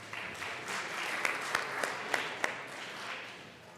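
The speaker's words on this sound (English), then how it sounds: "so just give them a little round of applause." A round of applause in the Colorado House legislative chamber, steady clapping from many people in the room lasting a few seconds and fading toward the end.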